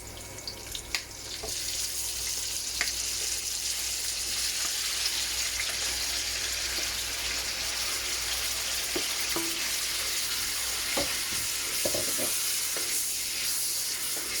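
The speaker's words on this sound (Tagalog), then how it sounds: "So, lagyan na natin ang ating kamatis." Tomatoes tossed into a pan of frying garlic, onion and ginger for sarsyadong tilapia, giving a steady, close, continuous sizzle with scattered crackles and pops and no talking.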